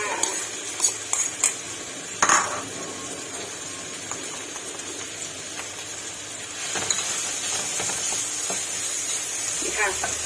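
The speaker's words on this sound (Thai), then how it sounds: "เอาพริกที่เราโขกไว้ลงไปผัดเลยค่ะ" Pounded chilies stir-fried in hot oil for chicken with lemongrass, with metal spatula clinks and scrapes against the pan early on, then a steadier, louder sizzle building toward the end, heard close.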